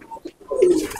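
Pet pigeons coo close by, including green-eyed birds of the kind kept by Punjabi fanciers, in a short low burbling call that swells toward the end.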